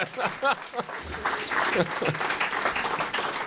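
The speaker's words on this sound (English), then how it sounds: "this is your applause" Audience at a Pinot Noir vertical masterclass and tasting claps in a brief burst of applause, fairly close and moderate, with voices speaking over it.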